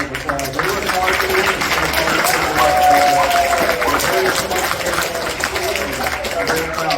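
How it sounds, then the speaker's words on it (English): Crowd applauding graduates at a school graduation ceremony, a broad, sustained wash of clapping with voices and cheers mixed throughout. "So, let's give them all a big round of applause."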